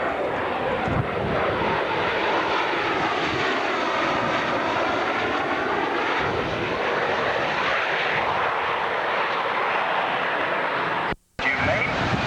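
A Lockheed F-117A stealth fighter passes at a 1991 Cleveland air show, its loud engine roar rising and falling through a sweeping flyby under a public-address announcer's voice, briefly cut by a gap near the end.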